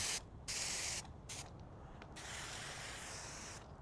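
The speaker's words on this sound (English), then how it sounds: "Spray it down." A hand spray bottle mists rinseless car wash onto a car's hood in a few sharp bursts of hiss, then one longer continuous spray, close and without talk.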